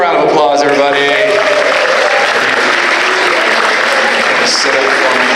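An audience at a high school after-prom hypnosis show breaks into loud, sustained applause, dense clapping that fills the room, with a voice speaking briefly over it at the start.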